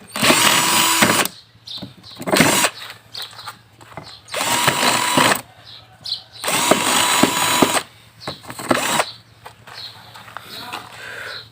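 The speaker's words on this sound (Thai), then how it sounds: "เจาะให้ทะลุเลยนะครับ ใช้ดอกสว่านสองหุ่นนะครับ" A power drill whines loudly in several long bursts, boring through particleboard, with quiet pauses and a low hum between runs.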